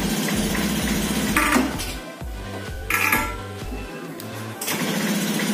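On a 2018 Honda Scoopy scooter with a sidestand wiring fault, the electric starter whirs and rattles in a few short, loud bursts separated by brief pauses, each ending without the engine catching.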